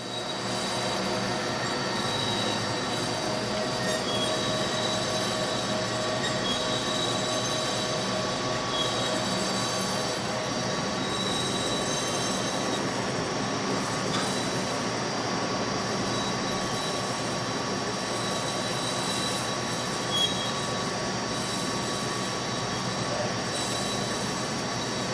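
A RAM SCD300 dicer machine on a neoprene in-feed conveyor cuts 6mm beef strips into quarter-inch cubes, making a loud, constant rumbling mechanical drone with a whining tone throughout.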